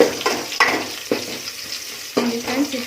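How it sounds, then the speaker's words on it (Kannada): Garlic and onion sizzle and fry in a pan for radish sambar, with a steady crackle punctuated by several sharp stirring scrapes at irregular intervals, close and moderately loud with no talking. "ಬೆಳ್ಳುಳ್ಳಿ, ಈರುಳ್ಳಿ ಎಲ್ಲ ಬ್ರೌನ್ ಕಲರ್ ಬರೋ ತನಕ ಹುರ್ಕೊಳ್ಳಿ"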